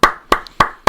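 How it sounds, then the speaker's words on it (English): Four sharp claps in a slow, even rhythm, close and fairly loud, with no voices. "Give yourselves a round of applause there."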